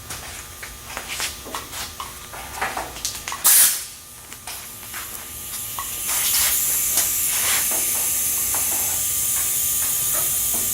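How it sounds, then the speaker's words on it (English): Hand rivet gun setting rivets in a Kolb Mark III Xtra's fabric-covered vertical stabilizer, a series of sharp pops and clicks followed by a steady hissing spray-like noise in the second half. "we'll get our rivet gun, we'll go ahead and pop them into place."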